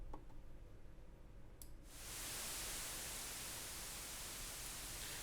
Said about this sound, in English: we can also get some noise out of the Prophet 5.